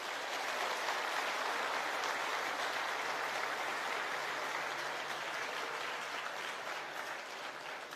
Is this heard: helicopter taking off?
no